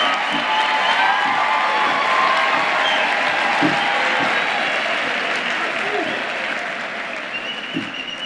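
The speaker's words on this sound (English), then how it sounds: "let's give them a collective round of applause." A graduation ceremony crowd at the University of the Free State gives sustained applause with scattered cheers and whoops, dense clapping that slowly thins and fades toward the end.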